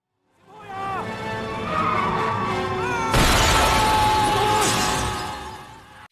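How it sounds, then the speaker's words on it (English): A car smashes into a police station in a martial-arts comedy film scene, a loud crash of shattering glass and debris breaking in midway through a busy mix of whinnying, clattering and rumbling. "He ends up crashing the car straight into his own police station."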